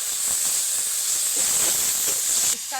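Grated onion hitting hot ginger-garlic paste in a pan for fish cutlet filling, giving a steady bright hissing sizzle that holds throughout and softens near the end.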